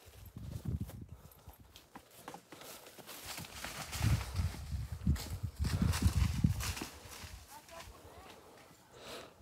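Horse hooves clip-clop on hard ground in a pasture at a walking pace, with people talking and shouting over them.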